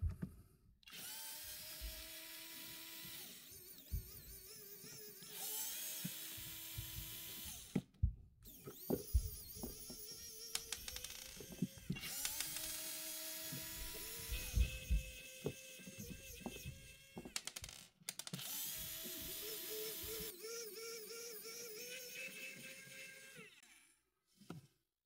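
A budget powered screwdriver loosens and backs out screws used on FPV and RC gear, whirring in several long strained bursts separated by short pauses, with the motor pitch sagging and rising as it works each screw free.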